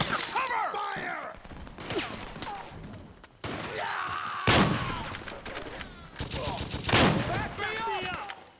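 Gunfire in Metal Gear Solid 4: Guns of the Patriots, with repeated loud bursts and sharp shots in a chaotic firefight, among soldiers shouting commands.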